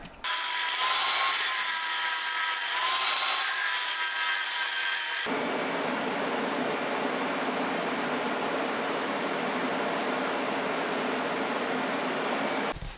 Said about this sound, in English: take the grinder, make a big deep groove down it